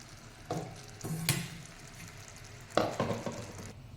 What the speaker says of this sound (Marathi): हे जे बॅटर आपण घेतलेलं आहे ते आपण यात घालायचं आणि सतत हलवायचं आहे